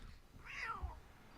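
A bully in a Cobra Kai scene imitates a cat with a single drawn-out meow that rises and falls. It is short and fairly faint, heard over a low background hum.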